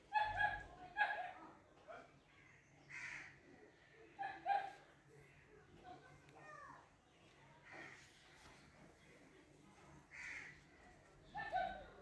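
Dogs in a residential colony bark and yip in scattered bursts from a distance, mixed with crows cawing nearby, while a person talks faintly at times.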